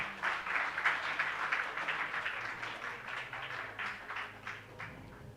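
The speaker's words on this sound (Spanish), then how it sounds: "Un aplauso, por favor." Congregation applause at a New Year church service, a steady, moderately distant patter of many hands clapping that holds for several seconds and fades slightly near the end.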